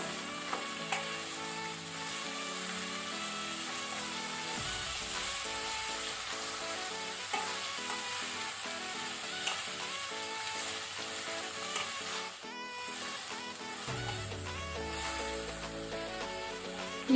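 Snake gourd frying in a spiced tempering over a medium flame, a steady crackling sizzle with occasional stirring scrapes, while music plays along throughout.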